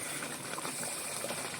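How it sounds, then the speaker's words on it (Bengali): Fish curry simmering in a cooking pot, a steady soft bubbling and watery hiss that holds at an even level throughout, close by with no talking. "ঝোলটা জাল হয়ে আছে, মাছগুলোকে দিয়ে দিলাম"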